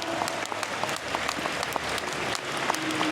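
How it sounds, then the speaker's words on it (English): An audience at the Paris Manga 2024 convention gives a film conference guest a lively round of applause, with dense crowd clapping sustained and fairly loud across the room. "Messieurs, dames, applaudissez Andy Serkis"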